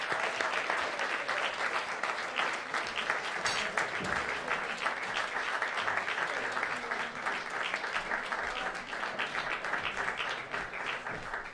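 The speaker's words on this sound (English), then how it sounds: "Keep on clapping until they all come on stage." Audience applause at a live 2018 tribute concert. Steady, even clapping that continues without a break, heard from a moderate distance.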